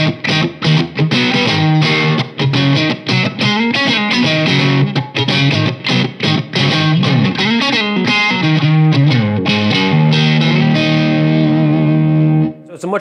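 A Boss BD-2 overdrive pedal drives an electric guitar through loud, close chord strums and single-note riffs with a stiff, slightly scooped crunch, sustaining a held chord near the end.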